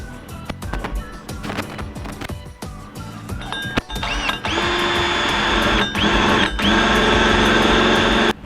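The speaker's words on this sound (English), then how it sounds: "I'm just basically gonna use a 2 3/8 hole saw, cut a hole" A 2 3/8 inch hole saw cuts a hole through an engine cover, starting with scattered ticks and clinks before settling into a loud, steady, high-pitched whine of sustained cutting with a brief pause near the end.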